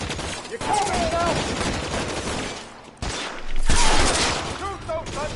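Gunfire in the video game LA Noire, with dense rapid shots and a sustained exchange of fire running throughout, while voices shout over the shooting.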